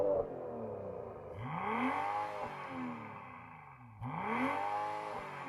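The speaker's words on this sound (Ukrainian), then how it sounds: "тож можна погазувати, завести машину." A BMW M340i with the B58 engine and a free-flowing exhaust is revved in sport mode, two rising blips that sweep up and fall back with a brief pause between, loud and close with no talk.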